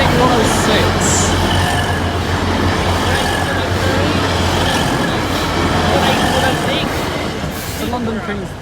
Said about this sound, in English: the second train approaching